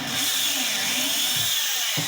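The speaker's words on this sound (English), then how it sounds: "the damn drill walks on the material" A power drill boring a hole for an eye bolt, a loud, steady high whine running continuously with slight shifts in pitch as the bit bites the material.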